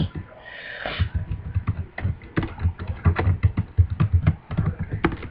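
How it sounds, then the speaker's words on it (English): Rapid clattering keystrokes on a computer keyboard, close and fairly quiet, in uneven bursts after a brief breathy sound at the start. "Just type down what I'm typing right now."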